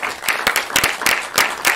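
An audience gives a welcome round of applause for panel members at a Tegenlicht meetup in Utrecht: a short, dense burst of clapping with many sharp, uneven hand claps filling the room.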